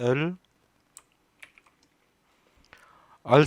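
Computer keyboard keys pressed for an Alt+L shortcut, a few sparse, soft clicks and taps in a quiet room, with brief speech just before and after.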